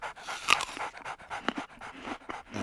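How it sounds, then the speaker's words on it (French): A hungry dog pants close by in quick, irregular breaths, with a few soft whimpering huffs mixed in, and no one speaks. "Un chien qui a faim."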